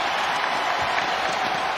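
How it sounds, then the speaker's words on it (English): A basketball arena crowd roars and applauds after a dunk, a steady, loud wash of cheering with no breaks. "Crowd rises up."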